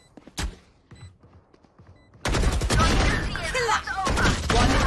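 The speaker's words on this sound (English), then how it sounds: "A lovely shots from Ozzy." Burst of gunfire from a Valorant pro esports match at VCT 2022 EU Challengers, sharp shots cutting in loud and sustained after a quieter opening with scattered thumps.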